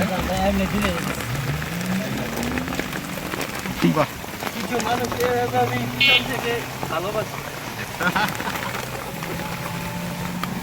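Steady rain falls on surfaces outdoors at a rural picnic spot, a continuous patter with voices talking over it.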